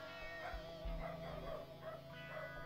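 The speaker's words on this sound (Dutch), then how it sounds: "Allemaal blaffen." Two dogs barking outdoors by day, repeated bow-wow barks with some yips, moderately near and steady over the whole stretch with no talk.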